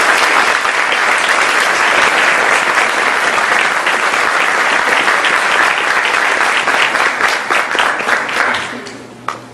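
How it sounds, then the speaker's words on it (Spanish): An audience at a professional event on actuarial practice bursts into loud, sustained applause to welcome a speaker, a dense roar of clapping that holds steady for several seconds and then tapers off quickly at the end. "Vamos a darle un fuerte aplauso para recibir."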